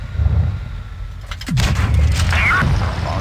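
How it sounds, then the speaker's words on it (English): A tank cannon firing in the World of Tanks video game, one sharp heavy boom rising over a constant low engine rumble, followed by a brief rattling echo. "Lovely shot of him. Enemy armor is damaged."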